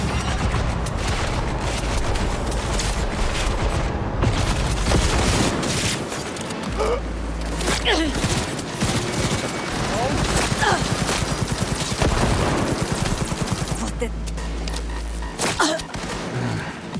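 An automated turret in the video game Cyberpunk 2077 unleashes long bursts of rapid gunfire, sustained and loud, with heavy booming low thuds breaking in mid-barrage and game effects layered over it.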